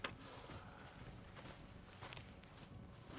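Horse hooves clip-clopping at a steady walk, faint and somewhat distant, with no talk over them.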